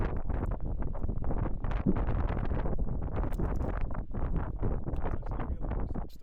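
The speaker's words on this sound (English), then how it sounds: "it's really, really windy going across these traverses" Strong wind buffets the microphone on an exposed Lake District fell top along the Deepdale Horseshoe, a loud continuous roar with gusty pulses throughout and no clear speech.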